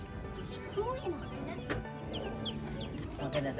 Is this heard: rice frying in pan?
no